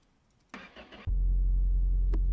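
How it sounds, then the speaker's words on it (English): An inline-four truck engine cranks with a short whirring starter burst, then catches and settles into a loud, deep, steady idle close by. "that little inline 4 engine is definitely purring away nicely"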